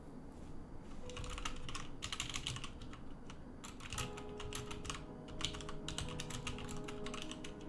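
Steady, rapid clatter of typing on a computer keyboard during a competitive Tetris grand final, continuous clicks throughout with no voices.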